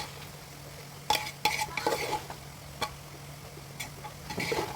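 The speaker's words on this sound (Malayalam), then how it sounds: "നമുക്ക് ഈ അരി മസാലയുമായിട്ടൊന്ന് കൂട്ടി യോജിപ്പിക്കാം" Soaked rice is stirred into masala in a pressure cooker pot, giving close, sharp scrapes and clinks of a spoon against metal in irregular bursts over a low steady hum, with no talking.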